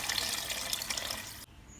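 Water being poured into a pot of plain kuska biryani: a soft splashing pour that runs for about a second and a half, then stops abruptly, faint and close by.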